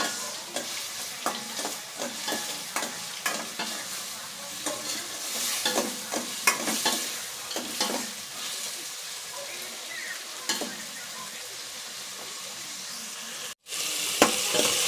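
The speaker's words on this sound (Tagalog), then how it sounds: "ating muna gisa-gisahin hanggang sa umano yung ating katas ng ating kamatis" Chopped tomatoes sautéing in a pan for Filipino chicken kinamatisan, with a steady sizzle and repeated scraping strokes of a spatula stirring through the mix, close up and without any speech.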